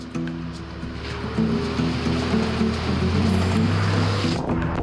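Muddy water churns and splashes around a 4WD driving into a brown, water-filled bog hole, with engine rumble underneath and a steady rush of water that builds and holds for several seconds.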